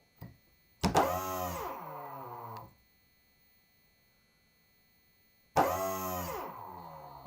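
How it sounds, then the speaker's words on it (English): A new electric skateboard motor under test gives two bursts of close, loud, whining hum that sweep up and down in pitch and then cut off abruptly, with silence between them. "This is the new motor. Let's test it out."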